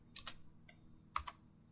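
Keys typed on a computer keyboard while entering OSPF routing commands into a network router: two short bursts of quick clicks, a lone tap, then two sharper keystrokes, close and fairly quiet, with no talking.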